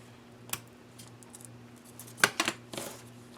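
Scissors make an angled cut through bow ribbon, a short sharp snip followed by a quick second crunch and a fainter rustle, close and quiet in an otherwise still room.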